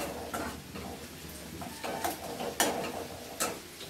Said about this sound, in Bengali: ভালো করে মশলাটা মিশিয়ে নেব।